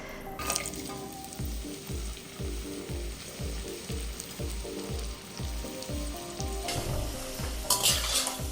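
Cauliflower pieces frying in hot oil during Bengali cooking, a close, continuous crackling sizzle with rhythmic stirring scrapes repeating about twice a second, louder bursts of spattering near the end.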